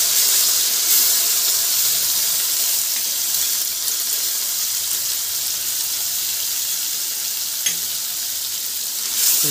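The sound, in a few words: masala of coriander, green chilli, garlic sizzling in pan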